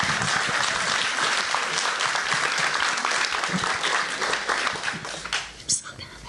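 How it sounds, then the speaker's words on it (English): A crowd gives a round of applause for 90-year-olds, a dense, loud, sustained clapping that carries on evenly and then thins and fades near the end. "So just a round of applause for that."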